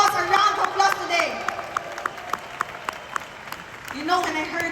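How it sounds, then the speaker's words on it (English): Applause for the boss, who is training to become a professional skydiver, comes as scattered hand claps in a moderate burst under continuous talking. The claps thin out and then swell again near the end. "Can we all give boss a round of applause today?"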